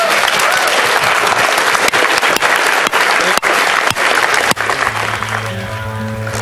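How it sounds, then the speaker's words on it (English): An audience at an evening lightning talks session gives a sustained round of applause for the speakers, dense and steady clapping that begins to thin near the end as a low hum comes in. "One more round of applause for all our speakers"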